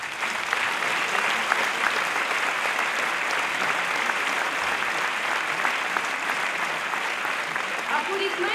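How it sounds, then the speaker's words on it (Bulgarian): Audience applause for the conductor of a folk ensemble at a staged performance, a dense, steady wash of many hands clapping continuously at even loudness throughout. "Аплодисменти и за Любен Касалов, диригент на ансамбъла."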